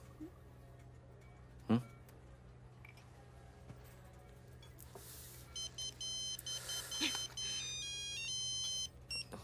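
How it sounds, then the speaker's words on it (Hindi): After a soft thump and some quiet rustling, a mobile phone ringtone starts up, repeating bright electronic beeping tones at moderate volume. "तुम्हारी माँ का फोन है।"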